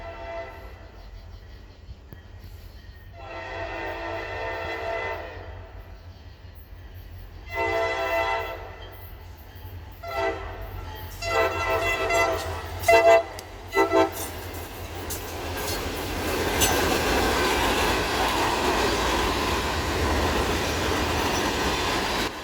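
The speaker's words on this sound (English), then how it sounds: "we set up one night in the summer of 2022 to catch an extra local freight heading to Parsons with an all-EMD show" A CSX local freight train led by EMD locomotives passes at night on the Columbus Subdivision, sounding several long horn blasts that grow louder, then a steady rumble and clatter of wagons rolling by close.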